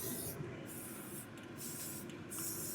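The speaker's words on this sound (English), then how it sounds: "I'll spray the edges to make sure I get those nice and evenly covered." Spray paint hisses onto the edges of layered MDF letters in four short bursts with brief pauses between, close and steady.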